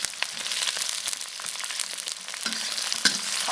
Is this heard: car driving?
no